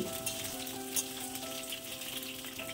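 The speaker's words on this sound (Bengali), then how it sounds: "পটলগুলোকে তেলের মধ্যে দিয়ে তেলের সাথে পটলগুলোকে আমি 1 থেকে 2 মিনিট ভেজে নিচ্ছি।" Pieces of pointed gourd fry in hot mustard oil in a pan, giving a faint, steady sizzle with small crackles throughout and no talking.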